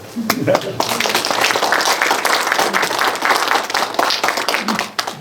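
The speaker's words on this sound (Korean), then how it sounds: "이쯤이면 박수 한번 쳐야 돼요" Audience clapping during a humanities lecture at a cultural center, a burst of applause lasting several seconds while people talk over it, tapering off near the end.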